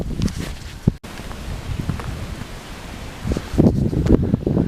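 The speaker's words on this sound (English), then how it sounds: "As you can probably hear, it's fairly windy" Gusty wind in the open Patagonian outdoors, buffeting the microphone with low rumbles and rustling, louder bursts near the start and again toward the end.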